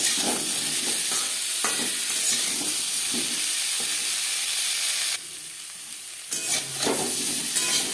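Boiled white potatoes frying in refined oil in a pan while being stirred, a loud, steady close sizzle and hiss with repeated scraping strokes, briefly dropping in level before resuming, with no talking.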